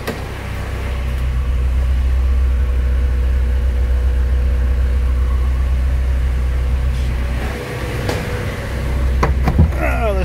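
A stock Honda H22A engine runs steadily on a dyno with a newly fitted alternator, giving a loud, constant low rumble with slight rises and a few faint clicks near the end.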